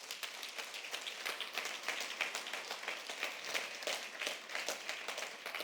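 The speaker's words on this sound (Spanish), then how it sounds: "Denle un aplauso al Señor" Church congregation clapping steadily for several seconds, a soft, fairly distant patter of many hands with a slightly uneven rhythm and no voices over it.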